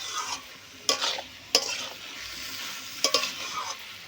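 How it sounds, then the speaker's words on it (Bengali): Jackfruit and shrimp curry is stir-fried in a pan, with a soft continuous sizzle broken by several sharp metallic scrapes and knocks of the spatula against the pan, heard up close. "এইভাবে ভালো করে কষাতে হবে"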